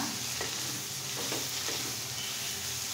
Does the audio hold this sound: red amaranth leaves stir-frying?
yes